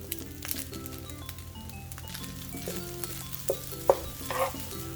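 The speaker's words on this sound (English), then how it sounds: "This time we're gonna add our egg." An egg frying in a hot pan for Spam fried rice gives a steady crackling sizzle with light spatter, a few sharp pops and a faint clink near the end, close and without talk.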